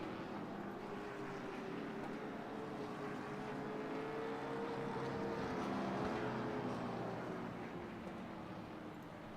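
Race cars in a sim racing video game at Southern National, heard as a steady droning blend of engine whine that rises and falls slightly, continuous and moderately loud with no talking.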